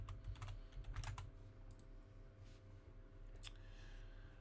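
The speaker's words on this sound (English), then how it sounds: "All right, so we type in Borderline." Someone types on a computer keyboard in a scattered flurry of faint key clicks, with a few louder taps near the start and middle over a low background hum.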